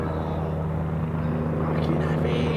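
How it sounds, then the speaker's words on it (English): A steady low rotor drone and engine hum from a helicopter overhead at night in London, continuous throughout, with a voice speaking faintly beneath it. "I don't know what that blooming helicopter is."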